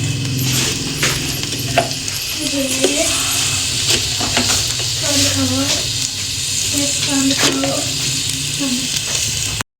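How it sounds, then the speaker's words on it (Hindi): Chicken sizzles and fries in olive oil in a pot, a loud continuous hiss close by, with a voice talking over it throughout. "इसी देचकी में हमने थोड़ा सा ऑलिव ऑयल डालना है, चिकन डालना है"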